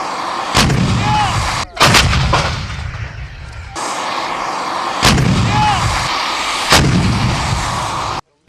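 Several loud artillery blasts boom one after another during a firing exercise in Berdychiv, Ukraine, each with a sharp crack and long rumbling roar, very close and powerful.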